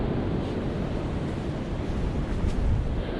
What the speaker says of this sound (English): It is cold, it is windy